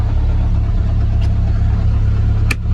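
A swapped turbocharged 1.8T engine with anti-lag in a Mk3 MR2 idles with a loud, steady low rumble, broken by two brief sharp cracks, the second stronger.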